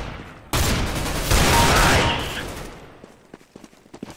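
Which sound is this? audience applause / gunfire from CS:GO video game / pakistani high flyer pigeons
gunfire from CS:GO video game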